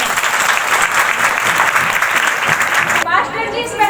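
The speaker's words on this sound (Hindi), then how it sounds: "ताली बजाएंगे जोर से।" A church congregation claps loudly and continuously at a live healing service, a dense wash of hands that cuts off near the end as the room quiets and a voice begins.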